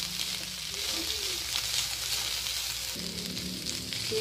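Shredded boiled chicken and potatoes fry in a pan with a soft, continuous sizzle that stays fairly quiet and even throughout.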